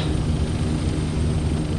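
A steady, loud propeller engine drone from the RS-138 AP mail plane in the Extreme Landings Pro flight simulator holds constant throughout, with no break.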